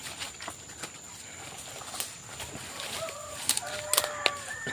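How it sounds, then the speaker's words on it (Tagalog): Chickens clucking somewhere in a rural yard, brief faint calls near the end over steady outdoor background noise, with scattered clicks and knocks. "May mga manok dyan."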